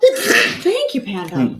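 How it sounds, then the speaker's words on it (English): A sharp, forceful sneeze bursts out at the start, then a person begins speaking right after it. "I'm gonna sneeze."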